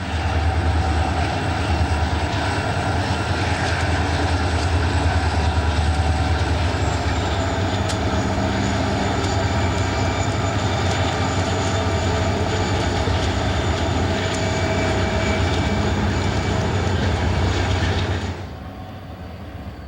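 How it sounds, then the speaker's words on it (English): A pair of SD40-2 diesel locomotives with a C40-8 leave Roseville eastbound, giving a loud, steady engine roar with rail noise for most of the stretch before it drops away abruptly near the end. "Another pair of SD40-2s with a C40-8 leave with an eastbound."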